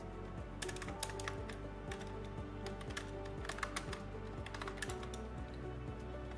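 Steady typing on a computer keyboard while entering an inventory update, with a run of quiet, fairly even keystroke clicks over a constant low background hum.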